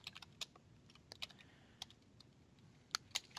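Someone types on a computer keyboard, a quiet, irregular run of light key clicks with a couple of sharper taps near the end, no voices.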